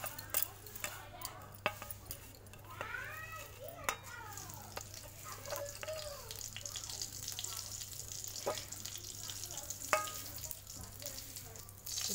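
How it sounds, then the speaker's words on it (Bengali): Bay leaf and panch phoron spices sizzle in hot oil in a wok while cooking singi fish curry, a steady crackling hiss with scattered sharp clicks and pops, fairly close, with a voice speaking intermittently over it. "কড়াতে আমি দিয়ে দেবো একটু তেল, দিয়ে দেবো তেজপাতা আর পাঁচফোড়ন।"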